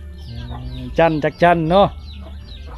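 A farmyard hen clucks in a short run of loud, close squawking calls at the center, with a voice talking quietly before and after.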